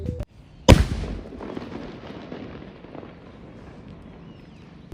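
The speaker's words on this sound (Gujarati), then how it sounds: "ચલો અહીંયા ફટાકડા પર નજર રાખીએ તિરછી અને ફોડી નાખીએ એક મિર્ચી" A single mirchi firecracker bursts outdoors near a temple at Verabar in the early morning, with one sharp, loud bang followed by a fading rumble and echo, then quiet ambience.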